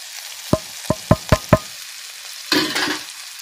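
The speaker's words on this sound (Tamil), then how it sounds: "இது நல்லா வதங்கினதுக்கப்புறம் நம்ம பொடி பொடியாக பிச்சு போட்டிருக்க பரோட்டா எடுத்து இதில் போட்டுங்க." Shredded parotta is stirred in a hot pan for egg parotta, with five sharp spatula taps against the pan followed by a short scraping sizzle, close and clear with no talking.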